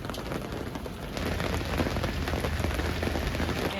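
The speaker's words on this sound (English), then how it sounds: "And that rain is loud." Heavy rain drumming on a trailer roof during rough weather on the Oregon coast, a dense loud patter heard from inside that grows slightly stronger partway through, with no talk.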